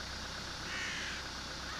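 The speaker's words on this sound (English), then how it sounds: "Them crows ain't taking no break." Crows caw out in a rural field, a few drawn-out calls at moderate distance over a quiet outdoor background, with no voices.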